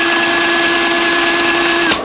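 A Ryobi One+ 18V drain auger runs steadily, its cordless motor whining with a constant tonal hum as the cable feeds slowly out, loud and close, then cutting off abruptly near the end.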